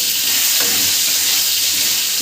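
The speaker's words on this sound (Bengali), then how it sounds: "অল্প নুন দিয়ে আমি আলুগুলোকে ভেজে নেব" Loud, continuous sizzling of lightly salted potatoes frying in hot oil for a bhetki fish chochchori, a dense steady hiss with a brief stirring scrape.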